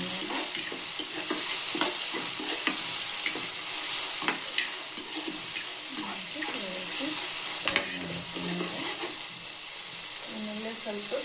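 Eggplant frying in oil with ginger-garlic paste for a North Karnataka stuffed brinjal dish, a steady close sizzle broken by frequent scraping, clinking stirs of a spoon in the pan, no talking.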